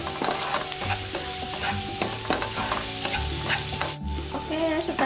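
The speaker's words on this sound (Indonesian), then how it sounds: "aku tumis dulu sebentar" Garlic sautés in a hot pan for spicy fried yellow rice, a constant sizzle and crackle with repeated scraping and stirring strokes of a utensil against the pan, close up and with no talking.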